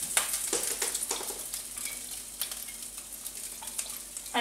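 Ginger frying in olive oil for a vegan red lentil curry, a close, crackling sizzle with spoon scrapes and light stirring taps against the pan, no voices.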